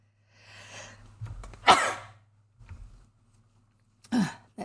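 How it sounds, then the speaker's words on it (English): A single sharp sneeze bursts out near the microphone, preceded by a breathy wind-up and followed a couple of seconds later by a sniff or small throat noise, with quiet room tone between. "Excuse me, I'm going to sneeze."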